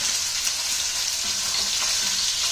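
Short ribs in red wine sauce fry and sizzle loudly in a pan as they are turned and basted, with a steady, dense crackle and no talking.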